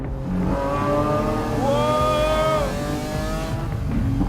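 Lamborghini Aventador SVJ Roadster V12 engine roaring loudly and steadily up close, with a rising rev swell midway that settles back to a sustained growl, no talking over it.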